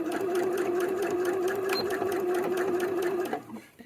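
A sewing machine back stitching on a small T-shirt for a Disney nuiMO plush, a fast steady whirring hum close up that stops abruptly near the end.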